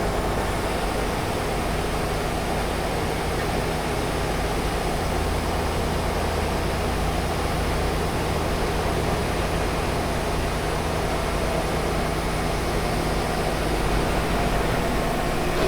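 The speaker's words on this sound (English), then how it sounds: "We just milling the bass on this milling machine, and now it's working" A milling machine runs steadily in a laser cutter workshop, milling the bed flat, producing a constant, dense broadband whir with a low steady hum, unchanging and continuous throughout, no voices.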